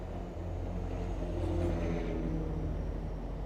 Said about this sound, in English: Oh, that flatbed sounds pretty good.